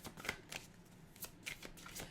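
A deck of cards is shuffled by hand in quick, crisp riffles and flutters, a few short bursts close by and fairly quiet, with no one speaking.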